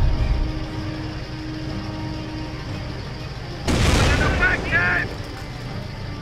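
Jet airstrike explosions in Company of Heroes, a sudden loud booming blast followed by a rumbling second burst over battlefield ambience, with radio-style voice chatter nearby.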